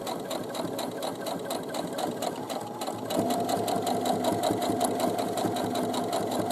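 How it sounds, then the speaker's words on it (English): Sewing machine stitching the side seam of a fabric boomerang bag: a steady, close mechanical rattle that runs throughout and grows slightly louder and faster partway through. "We're going to stitch down this side."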